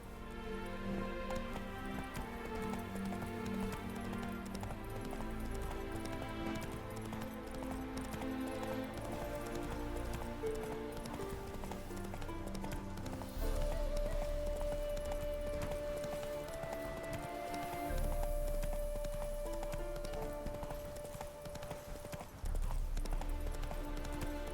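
Roach the horse gallops in The Witcher 3, a steady clip-clop of hooves running under a dense bed of game music throughout, with a brief whinny-like tone partway through.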